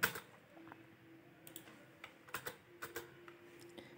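Keystrokes on a computer keyboard as commands are entered in a command prompt, a sparse, uneven run of light clicks with brief pauses between bursts, close and quiet, with no voices.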